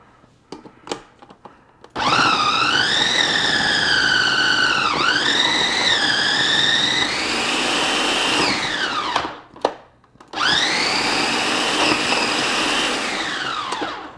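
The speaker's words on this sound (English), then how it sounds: "If you're using a food processor like I am today, careful with the blades." A food processor grating cheese for beer cheese: a loud, close motor whine that starts abruptly, changes pitch as it loads, cuts out briefly and then restarts, preceded by a few light clicks.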